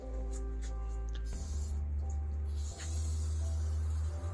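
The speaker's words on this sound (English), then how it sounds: "How to get the last out of a dying spray can." A nearly empty spray can hisses and sputters as the last of its contents is forced out, with broken bursts over a steady low hum. It is close and fairly quiet, with no talk.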